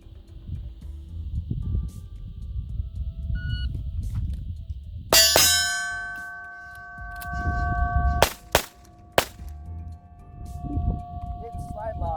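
Walther PDP Pro full-size pistol fitted with a Herrington Arms compensator fires a few sharp, loud shots in quick succession, each with a ringing metallic clang, over background wind and outdoor noise.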